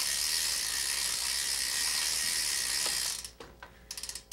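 A pedal wrench turning a bicycle pedal into the crank threads gives a steady, fine ratcheting whir for about three seconds, then a few short clicks and pauses, faint and close with no talk.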